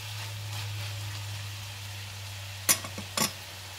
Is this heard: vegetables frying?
yes